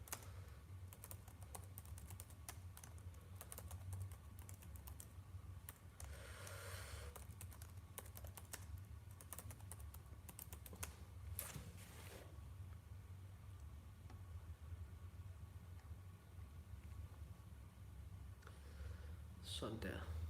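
Soft, steady tapping of a computer keyboard during a Danish language lesson, quiet clicks running continuously over a low background hum, with a person speaking at times.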